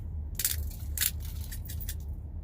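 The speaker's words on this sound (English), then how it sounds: "if it don't make that noise, you ain't got the real pepper" Close, crunchy grinding bursts as pepper is milled, several short gritty cranks in quick succession against a quiet background.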